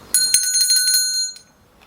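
A bright bicycle-style bell rings once to open the philosophy segment of a Spanish-language programme, its clear metallic tone shimmering and fading over about a second, loud and alone.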